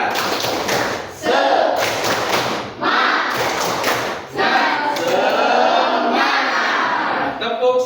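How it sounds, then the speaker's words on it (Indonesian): A class of children performs a rhythmic clapping chant during an Islamic religious education lesson, with loud bursts of group clapping and voices in repeated short phrases, broken by brief pauses. "Bagus sekali, tepuk semangat."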